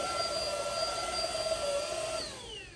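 Cordless vacuum cleaner with a headlight whirring in a kitchen, a steady close motor whine and suction hiss that winds down and fades near the end, with no one speaking.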